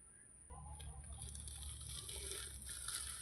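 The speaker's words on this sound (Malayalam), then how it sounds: "ഇതിനകത്ത് നമ്മൾ സ്ലറി ഒഴിക്കാൻ പോവാണ്" Thick slurry for homemade dishwashing liquid pours steadily into a container, a continuous liquid gush starting abruptly and running close and fairly loud with no talk over it.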